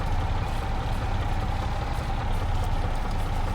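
Tractor engine in Farming Simulator 22 with its wheels spinning in a field, a loud, steady low droning rumble that holds constant throughout with no talk over it.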